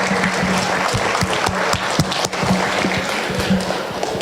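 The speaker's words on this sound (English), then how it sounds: "I think they deserve a big round of applause for the excellent job that they have done" An audience at a Durga Puja community gathering claps steadily for outgoing committee members, a loud, close wash of applause with a low hum running underneath.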